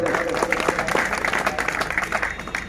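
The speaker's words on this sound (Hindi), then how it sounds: "उनका भी ताली बजाकर स्वागत करें" Crowd applause at a Saini community protest sit-in rally in Nawalgarh, steady clapping from many hands throughout, fairly close, with some voices mixed in.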